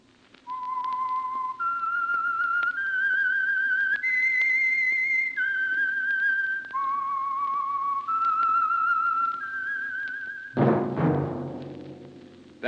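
A lone whistled theme tune for The Whistler radio show, a slow melody of held, clear notes stepping up and down, closing with a sudden orchestral chord.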